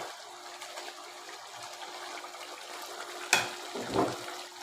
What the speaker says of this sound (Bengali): এখন একটু পানি দিয়ে নিব যাতে মশলাটা পুড়ে না যায়।